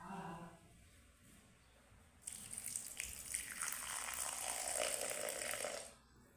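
Water pours onto sugar in a pan while making monthar, a village sweet, a steady rushing stream that starts after a quiet moment and stops abruptly near the end.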